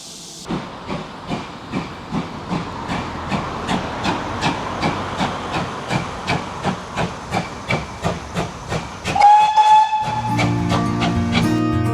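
A steam locomotive on a heritage railway near Broadway chuffs in a steady rhythmic beat with hissing steam, then a loud whistle blows near the end as the puffing continues.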